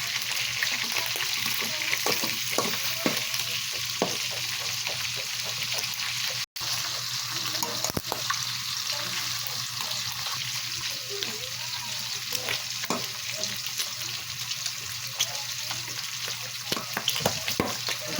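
Pork steak frying in oil in a pan, a continuous close sizzle broken by sharp pops and crackles of spattering oil, with stirring scrapes throughout and one brief gap.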